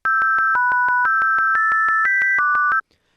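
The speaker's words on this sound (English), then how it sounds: "the reason it sounds so bad is because we just have a sine wave playing" Plain sine wave synth in FL Studio plays a short melody with harmony, about sixteen evenly spaced, bright tonal pulses stepping through different pitches at a steady quick pace, loud and alone, ending abruptly.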